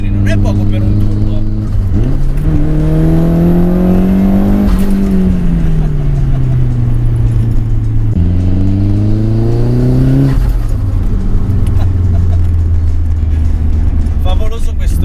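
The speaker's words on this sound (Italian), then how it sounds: "quando inizi a sentire la pressione della turbina non arriva tutta ad un colpo, è lineare e progressiva e tira fino a 7500 giri" Nissan Silvia 180SX S13.5 turbo engine pulling hard up toward 7500 rpm with a five-speed gearbox, rising engine tones that drop at gear changes and climb again, loud from inside the car with someone talking over it.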